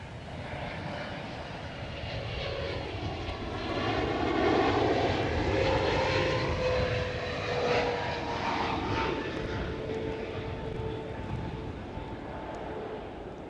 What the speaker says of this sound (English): I love with triples that you can just hear that engine like in front of the plane.